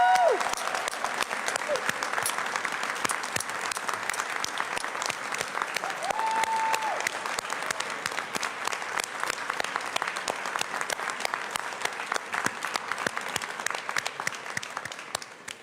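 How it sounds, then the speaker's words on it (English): A large crowd at a mayor's farewell gathering gives a long, loud ovation, sharp dense clapping running unbroken with scattered cheers and whoops before fading at the end. "So please give yourselves a round of applause"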